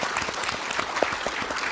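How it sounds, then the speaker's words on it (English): Audience applause at a summer Davos economic forum session in Tianjin attended by several prime ministers, a brief dense burst of clapping from a seated crowd, steady and fairly loud throughout. "I think that needs an applause."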